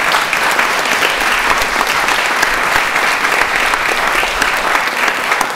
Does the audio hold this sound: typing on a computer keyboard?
no